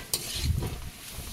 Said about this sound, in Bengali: ভালো করে মিশিয়ে একটু নেড়ে চেড়ে নেব।